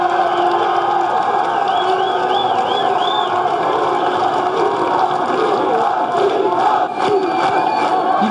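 A large crowd roars and cheers continuously, loud and dense, as Limoges CSP basketball players arrive off a plane carrying the European champions' cup, with whoops and shouts rising through the steady din.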